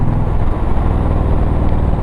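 An Indian Thunderstroke Dark Horse motorcycle with TAB Performance slip-on exhaust and zombie baffles idles nearby, a loud, deep, continuous throaty rumble with a pulsing low beat and no voices.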